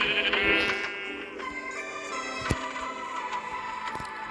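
Sheep in the Minecraft video game bleat several times in a row, the wavering calls loud and close against faint game background sounds, with no speech.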